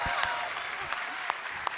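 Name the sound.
audience applause welcoming a guest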